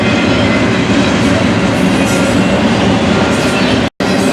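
A large BNSF freight train rolls past at close range, a loud, continuous rumble of wheels and rail cars with no break in the noise.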